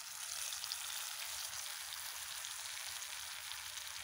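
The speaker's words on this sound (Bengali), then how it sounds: "পেঁয়াজ কষানো হয়ে গেছে, এর মধ্যে আমি দেব মশলা।" Spice paste of chili, turmeric, cumin and coriander powder mixed with water sizzles steadily in a pan of fried onions, a soft, even crackle without pause.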